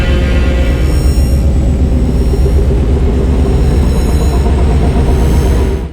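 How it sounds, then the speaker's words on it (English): A dense, loud, rumbling rhythmic chop-chop sound effect for a rattling spaceship scene in a cinematic trailer, a heavy low pulsing drone that holds steady throughout before stopping abruptly. "The next sound I'm adding is this rhythmic sound called chop chop."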